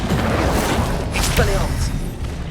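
Incendio fire spell cast in the video game Hogwarts Legacy, a burst of fiery whoosh and crackle amid busy combat effects, with a brief bright flare near the middle over rumbling game background.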